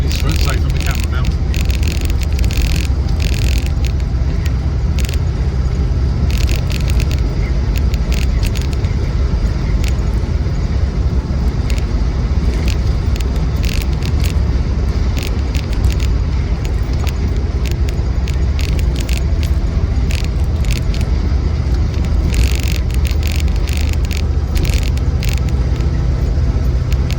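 Land Rover 90 V8 rolling over a bumpy road, with a steady low engine and road rumble heard from inside the cabin, plus occasional light knocks and rattles.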